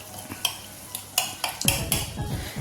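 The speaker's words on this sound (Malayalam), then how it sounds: "സൺഫ്ലവർ ഓയിൽ ചേർത്ത് കൊടുക്കാം നല്ല രീതിയിലൊന്ന് നമുക്കിതൊന്ന് മിക്സ് ചെയ്യാം" A spoon mixes batter with sunflower oil in a bowl for a homemade milk cake, producing irregular close clinks and scrapes of metal against the bowl, several sharp taps over a couple of seconds.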